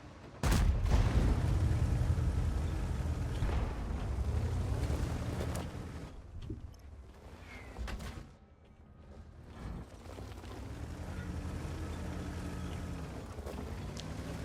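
A tank gun fires in World of Tanks, opening with a loud booming blast that rolls into a long rumbling tail, followed by a quieter lull and a steady low engine-like drone.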